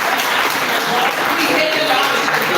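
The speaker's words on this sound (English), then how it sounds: "Please give another round of applause." A loud round of applause at a facility management association gathering, steady and dense clapping from a large crowd sustained throughout, with faint speech beneath.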